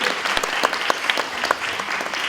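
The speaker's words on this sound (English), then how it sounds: "let us give you applause before you leave" An audience at a public health event on vaccination coverage breaks into steady, moderately loud applause, dense clapping with a few sharper claps standing out over the brief stretch.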